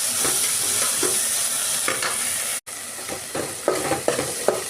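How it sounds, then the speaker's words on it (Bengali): Spice paste sizzling in hot oil in a pan for meat khichuri, a steady close frying hiss with repeated scraping stirs of a spatula, a brief gap midway, then sharper stirring knocks toward the end. "এটা একটু ভাজা ভাজা করে নিই।"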